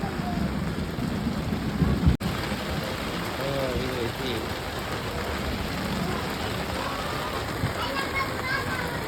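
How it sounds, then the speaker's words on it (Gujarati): Heavy rain pours steadily in a dense hiss, with thunder rumbling through it and voices talking faintly beneath the downpour. "વરસાદ મસ્ત મજાનો આવે છે અત્યારે"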